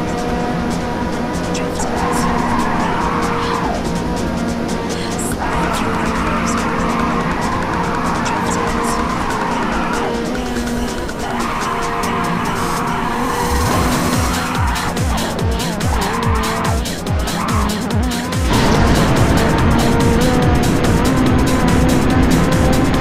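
Tires skid and squeal through curves in Ridge Racer on the PlayStation Vita, with repeated slides over a steady roaring race-car engine and an intermittent announcer-style voice.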